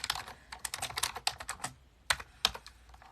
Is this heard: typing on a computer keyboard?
yes